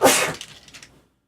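A single loud, close sneeze with a sharp burst at the start trailing off into a breathy fade, at a board game table.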